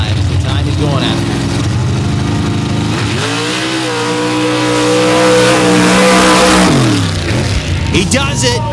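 A Chevrolet mud racing truck from Jacksonville, North Carolina roars through a mud bog run at a 2022 mud slinging event, engine screaming loud and continuous with pitch dropping and climbing again, an announcer talking over it.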